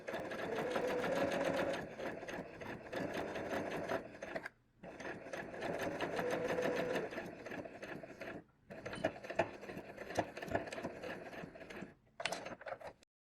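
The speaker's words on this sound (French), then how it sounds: "Je continue ensuite ma couture normalement." A sewing machine stitches a fabric hem at a mitred corner, running in close, steady bursts of rapid mechanical whirring with short pauses between runs.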